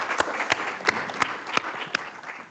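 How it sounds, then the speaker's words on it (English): A small audience at a tech talk gives sparse applause as a guest comes on stage: about half a dozen distinct, evenly spaced claps over a soft background. "I'd like to start first of all with maybe an applause for Dan Pritchard who's coming on stage"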